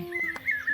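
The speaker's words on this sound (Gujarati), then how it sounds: "અને કોયલ પણ બોલે છે આપણા જેમ." An Asian koel calls at a village farm field in Gujarat, giving a short, clear whistled note that rises and repeats within less than a second, fairly close and alone.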